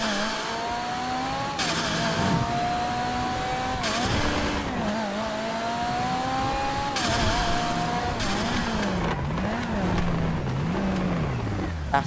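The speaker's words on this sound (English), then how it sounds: "it doesn't sound like a Miura, it only looks like one" A Miura-styled car in a driving game revs hard through rising and falling engine pitch with gear shifts and brief tire squeal, loud and continuous, while a person talks over it.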